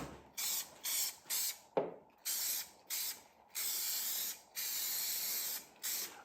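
Rust-prevention coating sprayed onto a Citroën 2CV in repeated hissing bursts, close and crisp, some short and some held for over a second, separated by brief pauses.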